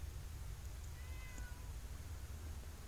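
A cat in the Fallout 76 game world gives a quiet meow or two, faint and brief against a low rumbling background, with no speech.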